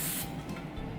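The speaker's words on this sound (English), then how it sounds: "Hairspray, let dry" A short, loud, close hiss of hairspray sprayed onto teased hair, strongest at the start and fading within a second.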